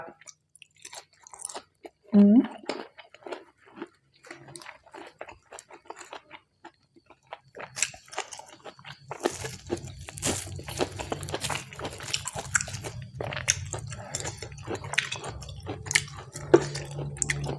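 Someone eating mushroom soup with boiled egg and blanched vegetables, with close, soft wet chewing and smacking, quiet at first, then steadier mouth noises over a low background hum.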